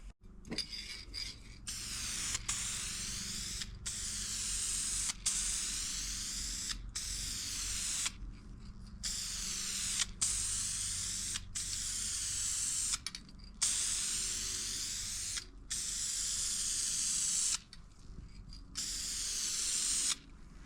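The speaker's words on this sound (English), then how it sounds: "we're gonna throw a coat of paint on this, let it dry up, and then we'll go from there" A spray can puts a coat of paint on a vintage sign in a shop, with repeated loud hissing bursts separated by short pauses, close and alone without talk.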